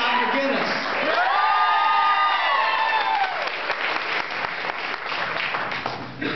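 An audience at a Colorado Republican governor candidates' forum applauds and cheers for the candidates: a dense, sustained wave of clapping with whoops and shouts rising over it, loud and steady throughout.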